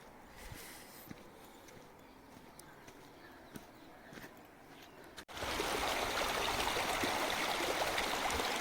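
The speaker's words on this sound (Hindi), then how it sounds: "मैया की लहरों की स्वर ध्वनि यहाँ तक आना शुरू हो गई है।" Flowing water of the Narmada river at the Dupta confluence, a steady rushing stream that starts faint and distant, then jumps to a loud, close, broadband wash for the rest of the clip.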